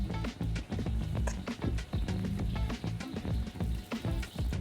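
Bay leaves, star anise, Sichuan peppercorns, white pepper and lemon leaves stir-fried in hot oil in a wok over low heat, a close, continuous sizzle broken by quick rhythmic tossing and scraping bursts.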